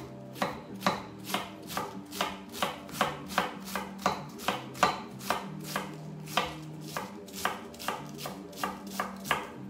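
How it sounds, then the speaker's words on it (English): Knife blade chopping through lettuce by hand on a board, shredding it for coleslaw, with a steady run of sharp, evenly spaced cuts close up and no voices. "grate the carrot, shred your lettuce by hand on the knife"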